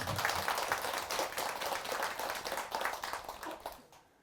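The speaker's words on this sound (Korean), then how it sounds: "큰 박수 한번 부탁드립니다" An audience applauds at a Buddhist dharma service celebrating the Buddha's birthday, a dense, sustained round of clapping that holds steady for several seconds and then fades out.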